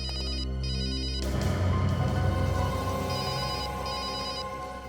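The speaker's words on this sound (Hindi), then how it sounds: "फोन कहाँ बज रहा है?" A telephone rings in repeated electronic bursts near a scene of robbers and investigators in a crime drama, the rings sounding over a low background tone that swells briefly.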